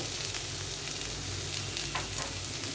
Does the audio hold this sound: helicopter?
no